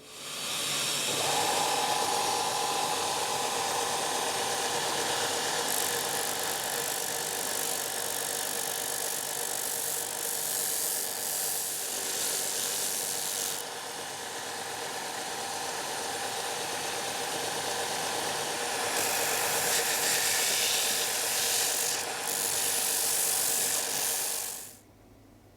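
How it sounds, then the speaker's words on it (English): Disc sander grinding the edges of a homemade bushcraft knife blank, a steady loud motor whine with a harsher abrasive rasp that swells and eases in a few long passes before stopping near the end. "next thing I'm going to do is just start to sand using my disc sander now and square off the edges ready for the shaping."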